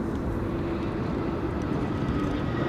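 A narrow-body airliner landing at a windy Amsterdam Schiphol, heard as a steady, loud low-pitched engine roar with a faint tonal hum, continuous and without voices.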